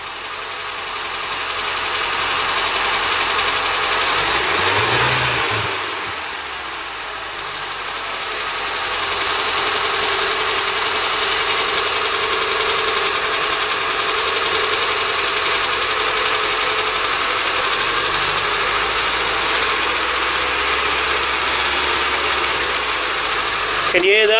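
A Mk3 Ford Cortina engine drones close by, its pitch dipping and climbing as the speed changes, with a steady hum throughout.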